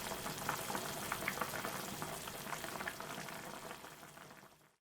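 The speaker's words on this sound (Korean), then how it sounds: "끓기 시작하면 거품 걷어내고 5분 끓이고 고추 넣고 한 소금 끓인 후 불을 꺼줍니다." A pot of Korean old cucumber soup boils steadily, with a dense, even bubbling at low volume that fades away at the end.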